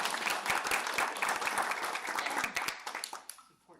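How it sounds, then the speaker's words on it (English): Audience applause at a conference on AI in government, a dense burst of many hands clapping close and loud, then thinning and fading out over the last second. "Next, we're gonna clap."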